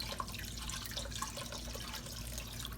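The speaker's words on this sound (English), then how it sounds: "pour all this beef stock in there" Beef stock pours into a cooking pot with a faint, steady liquid trickle and splash, quiet and continuous, with no voices.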